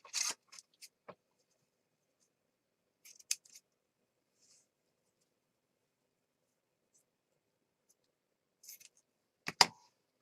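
A few sharp snips of scissors cutting paper, scattered with long quiet gaps between, close by and fairly faint.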